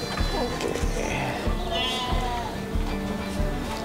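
Sheep on a breeding farm bleat repeatedly in short, wavering calls at close range, mixed with voices talking nearby.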